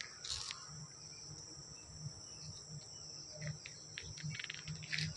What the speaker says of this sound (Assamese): চৰাই মাতি আছে